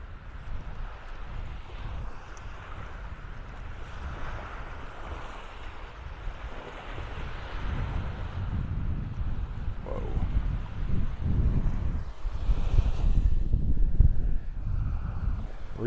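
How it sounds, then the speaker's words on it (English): Wind blowing steadily across an open beach at Delnor-Wiggins in North Naples, Florida, a continuous low roar with rising gusts toward the end, mixed with faint surf. "Breezy, breezy, breezy."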